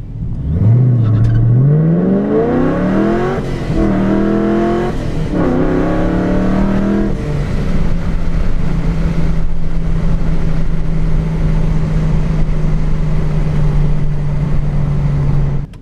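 A supercharged Procharger-fed 5.7-litre Dodge Challenger R/T launches hard on a 0-60 run, engine revving up through rising gear pulls with wheel spin, then settling to a steady cruising drone; loud and close throughout.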